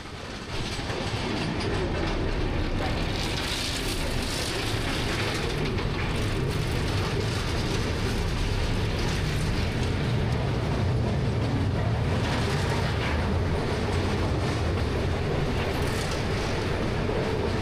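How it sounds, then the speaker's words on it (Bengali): Passenger train rolling into Kolaghat station ahead of the Kolaghat bridge, a steady loud rumble of wheels and carriages with faint rhythmic clatter, continuous throughout without speech. "কোলাঘাট স্টেশনে আসার পর ট্রেনের স্পিড কমে গেছিল"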